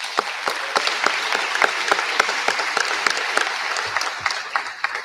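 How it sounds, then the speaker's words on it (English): A room at an annual school athletics banquet applauds the athletic director, with sharp individual claps in a steady, moderately loud round that fades slightly toward the end. "if we could stand or just give him a round of applause right now, please."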